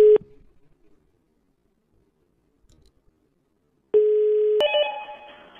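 Telephone line tones during an outgoing call: a short tone, then a quiet pause with faint clicks, then a longer steady ring tone that shifts into a higher, fading signal, with no talking.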